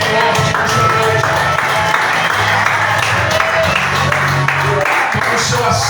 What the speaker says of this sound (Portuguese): Aplauda o Senhor Jesus bem forte nessa noite